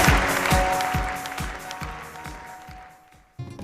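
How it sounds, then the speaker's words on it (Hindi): Studio audience at a TV game show applauds a guest, loud at first and then fading over about three seconds, with a few louder beats underneath, before a brief new burst of sound at the end. "दोस्तों की भरपूर तालियां।"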